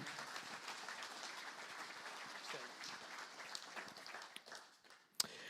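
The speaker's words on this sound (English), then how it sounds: "Ladies and gentlemen, give him a big round of applause." Applause from the crowd at the Southern 100 road races 2026 launch event, a fairly faint, steady patter of clapping that thins out near the end, with a sharp knock just before it closes.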